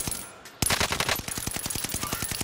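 Rapid bursts of automatic gunfire in a first-person shooter match, a loud steady rattle of evenly spaced shots after a brief quieter lead-in, close and dominant with no talk.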